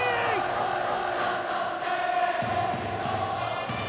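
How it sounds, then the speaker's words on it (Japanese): A stadium crowd in the video game Powerful Pro Baseball 2021 roars and cheers loudly for the batter Kondo, a dense continuous swell of voices with horn-like tones and chanting. "ひときわ大きな声援が聞こえます"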